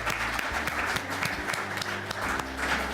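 An audience at a sustainable communities awards ceremony applauds its finalists, a dense, sustained patter of many hands clapping at once, steady and fairly close, with a faint voice briefly underneath.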